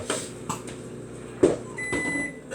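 A kitchen microwave oven hums and then gives thin, high electronic beeps after finishing melting butter, with a few soft clunks and no speech.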